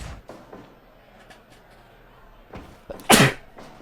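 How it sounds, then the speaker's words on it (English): A single loud, sharp sneeze bursts out near the end after a few quiet moments of faint background noise and soft knocks. "wasn't able to mute the microphone in time, so you got to hear some sneezing action"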